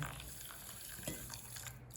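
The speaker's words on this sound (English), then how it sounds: "what you want to do is pour it in" Boiling water is poured from a kettle onto dry couscous in a bowl, giving a soft, steady trickling and splashing stream that stays faint throughout.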